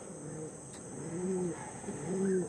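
A blue-tailed Nildama pigeon coos softly in a few rolling phrases against a steady high background hum, with no voices.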